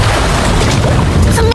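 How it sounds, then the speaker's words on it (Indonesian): A loud, dense explosive roar from an animated candle with spirit fire bursting and setting a pavilion ablaze, sustained as a continuous rumble before cutting off abruptly. "salah satu lilin yang memiliki api siluman langsung meledak dan membakar pavilion"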